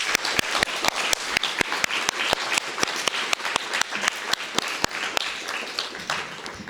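A community celebration audience claps in appreciation, a steady patter of individual hand claps with sharp distinct strikes, moderately close and fairly sparse, tapering off at the end.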